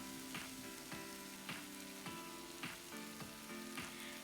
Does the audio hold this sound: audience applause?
no